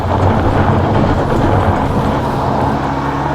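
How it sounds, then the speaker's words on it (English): A 2023 Kia Soul GT-Line on a hill traction test, traction control off, spins a tire in a loud, continuous rumbling roar of engine and churning wheel that holds steady for a few seconds. "That tire's spinning a bunch over there."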